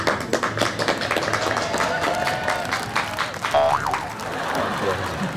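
Hands clap to bring someone out of hypnosis, a few sharp claps mixed with ambient crowd noise and a brief springy tone.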